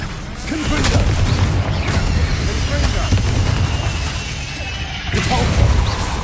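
The Confringo blasting spell exploding in the wizarding action game Hogwarts Legacy, as a loud rumbling crash and boom amid constant combat noise, with a player shouting spell names over it.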